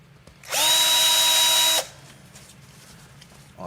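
Power drill used to widen the axle hole for a suitcase wheel, a single steady whine of about a second and a half that starts and stops abruptly, loud and close, followed by quiet room tone.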